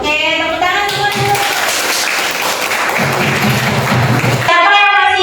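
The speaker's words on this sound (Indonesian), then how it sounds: "Oke, tepuk tangan semua dulu." A class of schoolchildren claps together in a noisy room, a dense burst of applause lasting several seconds with voices around it.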